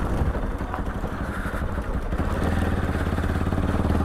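A motorcycle ridden along a road, recently fitted with new tyres and a new chain sprocket, gives a steady, fairly loud engine drone with a low rumble that holds throughout and no talking.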